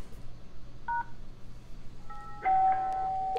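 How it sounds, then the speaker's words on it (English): A custom doorbell-style ringtone plays from a Yealink desk phone: a brief chime tone, a pause, then a louder sustained two-tone ding near the end, clear against a quiet room. "Sounds more like a doorbell."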